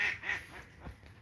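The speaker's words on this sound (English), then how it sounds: "That's a very noisy duck." A noisy duck gives a couple of nasal quacks in quick succession near the water, fairly faint and a little distant against quiet outdoor background.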